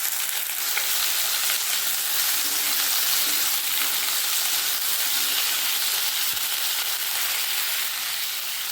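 Potatoes and taro frying in hot oil in a kadai give a loud, continuous, dense sizzle that stays steady throughout, with no voices.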